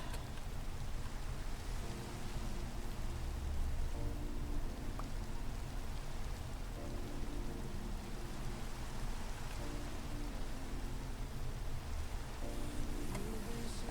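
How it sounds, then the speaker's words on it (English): Steady rain falling in a crafting and gathering video game, a constant, even hiss of raindrops heard alone at moderate volume, with faint soft tones underneath and no talking. "And of course it's raining."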